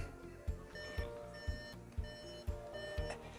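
A new Volkswagen Taigo's dashboard warning chime sounds inside the car, a steady repeating pattern of short tonal beeps about twice a second, faint against a low interior hum, with no talking.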